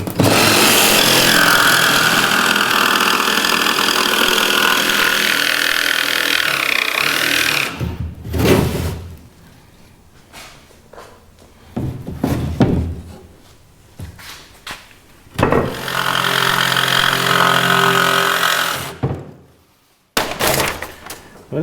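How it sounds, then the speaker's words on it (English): A jigsaw cuts slowly around the edge of a wooden kayak deck to free the coaming opening, buzzing loud and steady for several seconds, falling quiet, then cutting again in shorter bursts and one long final run. "I'm just going to grab my saw and very slowly go around the edge of this thing"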